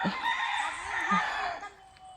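Chickens inside a coop during an egg hunt: a hen's drawn-out vocalizing and soft clucks close by, with people talking quietly over the birds.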